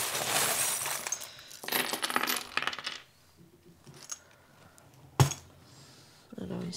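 Small divination charms handled and clinking together in a hand, with bright metallic chinks and one sharp clatter, then quieter rattling.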